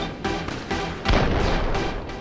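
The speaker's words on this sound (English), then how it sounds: "I added explosions, I added shooting." Dense explosions and gunfire from the Alien Life Simulator game, with booming blasts over continuous rumbling shots and a heavier impact midway, loud and close with no talking.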